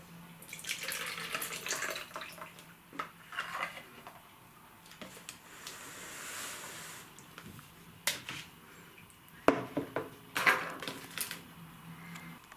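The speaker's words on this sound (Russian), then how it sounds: "Отсюда тоже сливаем воду." Water drains out of an orchid pot in splashy, uneven trickles and drips, close and fairly quiet, with a few sharp taps and clicks as the pot is handled, and no speech.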